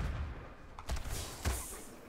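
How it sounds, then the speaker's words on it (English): Concussive Shot ability from World of Warcraft: Battle for Azeroth, two booming impacts with a low thump and a bright hiss, the second burst swelling into a brief ringing wash. "the sound of concussive shot actually sounds like it causes concussion"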